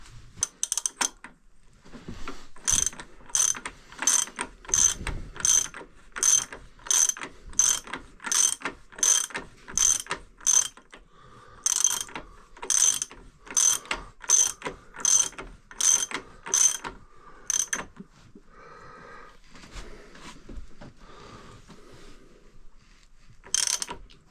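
Ratchet on a 1975 Honda XL250 tightening a nut: fast, close clicking pawl strokes in repeated bursts, about twenty pulls with brief pauses between, loud and steady with no talking.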